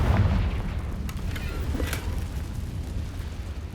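A Confringo fire spell in Hogwarts Legacy bursts with a deep muffled boom at the start, then a rumbling fiery decay that fades over a few seconds.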